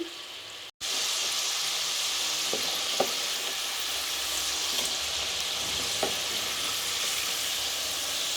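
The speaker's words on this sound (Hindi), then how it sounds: "फ्राइज़ को हम 5 से 7 मिनट तक फ्राई करेंगे ताकि हमने जो इस पर कोटिंग की है उसकी एक अच्छी सी लेयर आ जाए।" Spice-coated fries deep-frying in hot oil give off a loud, continuous close-up sizzle with a few faint pops, after a brief silent gap at the start.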